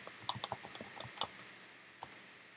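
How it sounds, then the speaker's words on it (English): Text being typed on a computer keyboard: a quiet, close burst of irregular key clicks followed by a few isolated taps, with no talking. "And I'm going to type some text in it."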